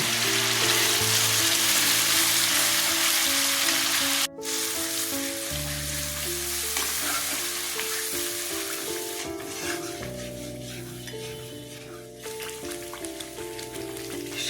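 Spinach paste and cashew paste sizzle loudly in a hot pan, a dense continuous crackle with a brief break and some stirring shifts partway through, close up and without voices.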